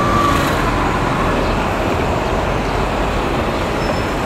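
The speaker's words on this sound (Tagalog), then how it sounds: "Traffic pa rin." Steady, loud road traffic rumbles past on a street in downtown Tanawan, a dense continuous wash of engine and tyre noise with no clear breaks or talking.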